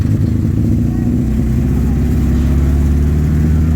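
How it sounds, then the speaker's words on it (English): Junior banger race cars rev at Hednesford Raceway, a loud, continuous engine roar with a steady low throb that fills the whole stretch. "That's junior bangers that are out just now."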